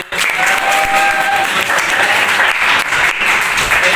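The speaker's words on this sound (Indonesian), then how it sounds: "tepuk tangan untuk Calvin." A classroom group gives steady applause for a student at the end of a lesson, a dense continuous clapping that holds at full strength for the whole stretch, with a faint whistle-like tone early on.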